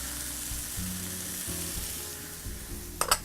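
Garlic and fresh herbs sizzle steadily in a hot pan, a soft even hiss throughout with a low hum beneath and a couple of stirring clatters at the end.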